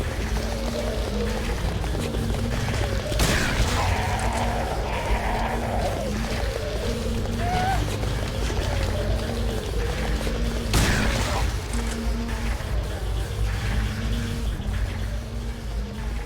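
Gunshots in Silent Hill 3 at Brookhaven Hospital, a couple of sharp loud bangs spaced several seconds apart over a continuous droning, watery ambient background.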